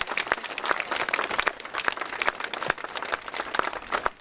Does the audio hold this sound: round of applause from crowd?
yes